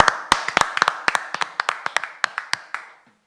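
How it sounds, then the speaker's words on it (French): A small audience at a town event in Etaples claps for about three seconds, sharp separate hand claps at an uneven pace that thin out and stop, heard fairly close. "Et ça s'applaudit aussi."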